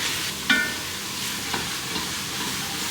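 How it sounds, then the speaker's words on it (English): Vegetables and cumin cooking in a pan give a soft, continuous sizzle with one sharp utensil clink and a couple of faint scrapes. "So I'm going to cook that for about 5 to 7 minutes until the vegetables have started to soften."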